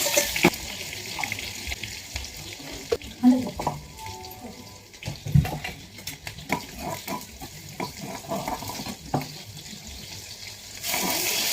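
Water running from a kitchen tap, a fairly steady flowing rush with intermittent clatters and splashes, heard close up with no talking.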